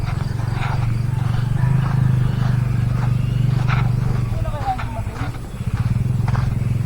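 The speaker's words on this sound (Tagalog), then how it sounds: "Siguro maingay yung motor" A motorcycle engine drones steadily at close range throughout, with voices talking over the rumble and occasional scraping noises.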